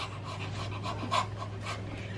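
Children imitating a panting dog in a home kitchen, a soft, rapid series of breathy huffs in an even rhythm, fairly quiet and close, with no talking.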